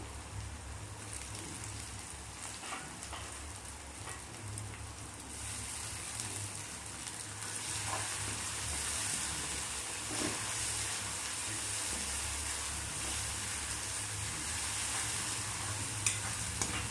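Finely chopped tomato sautéing in a pan over a slow flame for a village-style prawn chutney, a continuous close hiss and sizzle with faint stirring, steady throughout.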